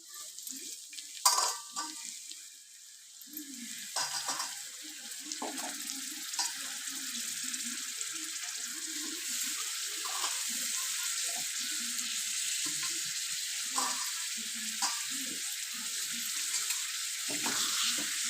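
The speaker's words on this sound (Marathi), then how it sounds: "थोडी मास मी टाकते आता तव्यात" Pieces of masala-coated fish fry on a hot tava, giving a continuous close sizzle with occasional clinks and scrapes from stirring and turning, and no talking.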